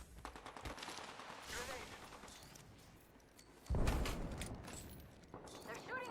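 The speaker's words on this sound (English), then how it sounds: "They're shooting at me." Gunfire in the Apex Legends battle royale game, bursts of rapid shots and impacts mixed with in-game noise, with a louder blast partway through, while players talk over it.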